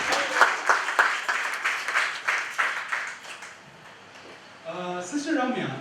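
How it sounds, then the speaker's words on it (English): Audience applause at a Labor Day regional retreat session, a burst of clapping that dies away before voices and other sounds take over near the end. "Big round of applause to Chicago!"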